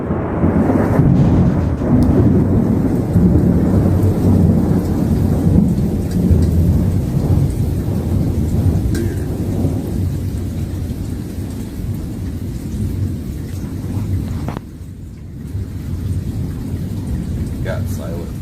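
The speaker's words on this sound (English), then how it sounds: "It's just wicked thunder and lightning." Thunderstorm with steady heavy rain and deep rolling thunder rumbling continuously, loud and close, without anyone talking.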